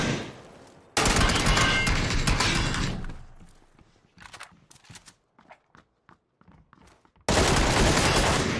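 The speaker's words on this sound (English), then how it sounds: "Been nothing but shooting the wall." Loud bursts of rapid gunfire in a shooting video game, a dense volley at the start and another at the end, with scattered footsteps and clattering impacts between them.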